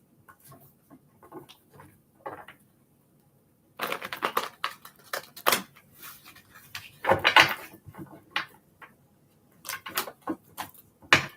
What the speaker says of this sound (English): Give it a couple good shuffles.